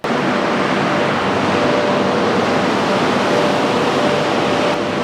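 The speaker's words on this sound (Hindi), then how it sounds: "पीछे मशीनरी चालू है।" Loud factory machinery runs without a break, a dense, steady broadband roar with a faint tonal hum inside it, close and unvarying from start to finish.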